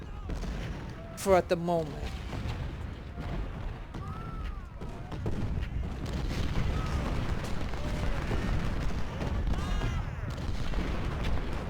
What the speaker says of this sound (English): So my two snipers are gonna go hit him